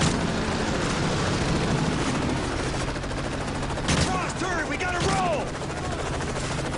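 Dense gunfire in a Modern Warfare 3 campaign mission, cutting down enemies as they run away, sustained and loud with scattered bursts and a thin whistling tone near the end.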